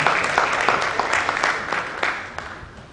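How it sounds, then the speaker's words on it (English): A small crowd at a schools' quiz competition applauds, a brief burst of scattered clapping that gradually thins out. "A round of applause to Mr. Oladipo."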